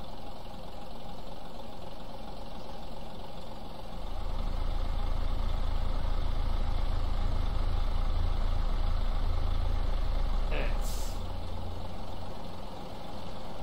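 Team bus engine idling in the Euro Truck Simulator 2 driving game, a steady low diesel rumble that deepens and strengthens partway through, then settles, with a brief faint high chirp near the end and no talking.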